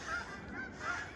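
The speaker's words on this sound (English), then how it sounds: "you can hear the geese flying over." Geese honking as they fly over a snowy winter garden, a few repeated calls from a moderate distance, clear and unaccompanied by talk.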